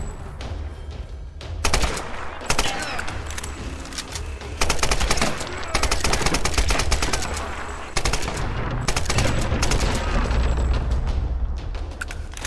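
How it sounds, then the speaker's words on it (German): Machine gun fire in Tomb Raider during an airship level, loud rapid bursts of automatic shots coming in long clustered volleys over a rumbling game background, with no talking. "Und wieder so ein scheiß MG, ey."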